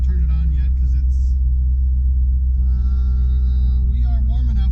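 A 1971 Chevrolet C10 shortbed truck drives on back roads in Tennessee, its engine giving a loud, steady low rumble from inside the cab, with people talking over it.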